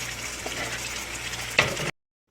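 Fresh tomatoes hit a hot pot of black bean stew with a steady sizzle, then a louder burst of hissing before the sound cuts off abruptly.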